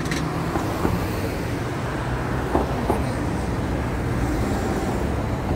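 Steady highway traffic near the Honoré-Beaugrand area in Montreal, a continuous broad roar of passing vehicles heard from nearby, with faint clicks and footsteps over it.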